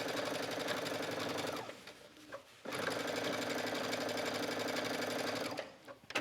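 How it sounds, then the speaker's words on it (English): A sewing machine stitches along the lace edge of a skirt, a fast, even mechanical whir running for about a second and a half, pausing, then running again for several seconds before stopping. "let's just stitch a little bit of this one"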